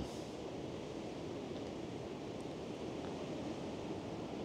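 Steady wind gusting outdoors at a lakeside or shore while fishing for asp (avižadrebis) in Šyša near Šilutė, a continuous broadband rush buffeting the microphone with no pauses.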